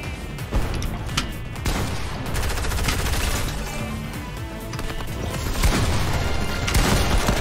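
Dense gunfire from the video game Fortnite in a solo match, a sustained loud barrage of overlapping shots and booms filling the whole stretch with no pauses.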